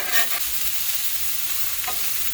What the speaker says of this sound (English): we're kind of stir-frying these anyway, so I've got it up pretty high